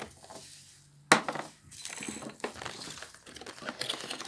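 Colored teaspoons clinking as they are unpacked from a box, a sharp metallic chink followed by scattered rattles and crinkling packaging, close and fairly quiet.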